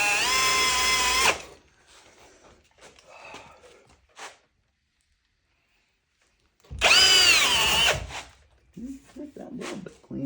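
A power drill fitted with a small wire brush whirs loudly in two bursts while scrubbing old square-body truck sheet metal before painting, with scraping and someone talking between bursts.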